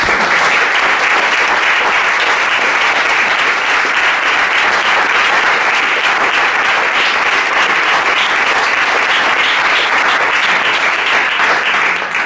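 A large audience applauds at the close of a talk on transreligious spirituality, steady dense clapping filling the room at full strength for the whole stretch, without letting up.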